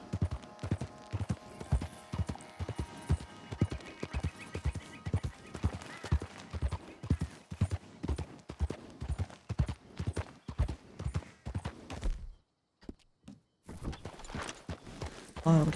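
Wild horses in Red Dead Redemption 2 walk with steady, rhythmic hoof clip-clops, close and moderately loud for about twelve seconds, then a short pause before the hoofbeats resume.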